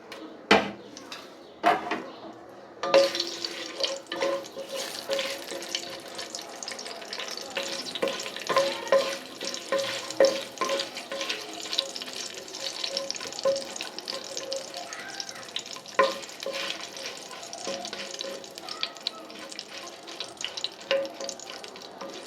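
Cardamom, peppercorns, cinnamon and bay leaves fry in hot oil for chicken curry, giving a steady close sizzle with occasional stirring scrapes and clinks throughout.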